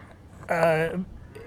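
A single cow lets out a short, harmonic moo of about half a second, fairly close, rising out of quiet outdoor background. The cattle have been moved onto high ground where they are calving.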